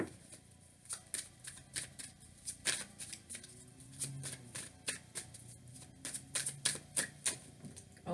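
Tarot cards shuffled in repeated crisp riffling bursts, a steady flurry of papery snaps and slides close by with no talk.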